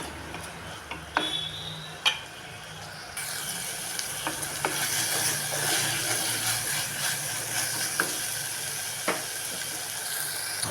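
Drumstick leaves and ridge gourd stir-fried in a pan, a steady close sizzle that swells partway through, broken by scattered ticks and scrapes of stirring, with no voices.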